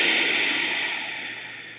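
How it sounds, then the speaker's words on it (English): A yoga exhale pushed through a closed mouth with the back of the throat constricted makes a single breathy, hissing rush up close that slowly fades away over about two seconds. "we're going to keep the mouth closed but make the same sound as we're exhaling"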